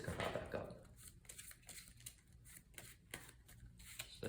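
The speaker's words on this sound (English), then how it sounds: "then shuffle the discard pile back up" A discard pile of playing cards from a Spider-Man versus Ronan card game is shuffled: soft, quiet riffling and flicking of cards in short bursts, close up, with no talk.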